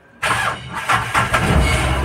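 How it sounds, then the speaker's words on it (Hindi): A Mahindra Bolero BS4 pickup with a key programming start fault cranks briefly and fires up, settling into a loud, close, rough idle with a few uneven pulses as the engine catches. "अब सेल्फ मारेंगे"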